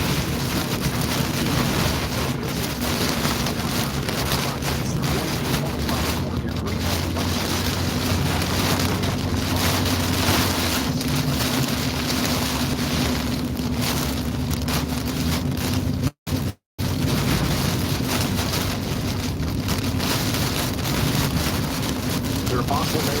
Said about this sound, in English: It's got to be 60-mile-an-hour gusts that we're driving through.